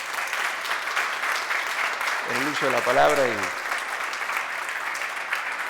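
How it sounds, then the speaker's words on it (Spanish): An audience at a book presentation applauds a speaker, steady mid-distance clapping throughout while someone speaks briefly over it. "voy a pedir un gran aplauso para mi amigo Martín Villagrán"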